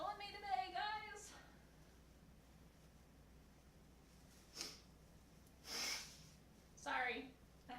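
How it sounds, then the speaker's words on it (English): Someone with allergies blows their nose: after a brief vocal sound, a few close, forceful bursts of nasal air follow in quick succession. "Sorry, I had to blow my nose."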